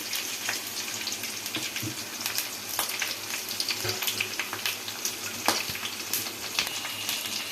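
Mustard seeds, red chillies, garlic, shallots and curry leaves frying in hot oil for a kuzhambu tempering, a steady crackling sizzle with scattered sharp pops, close and unbroken, with no voices.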